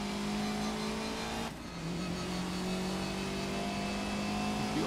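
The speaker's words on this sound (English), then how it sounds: "You are hitting, you're almost hitting the rev limiter there already." A race car engine in Grid (2019) revs high near its rev limiter, a steady tonal whine that dips briefly on a shift and then climbs again, with no voices over it.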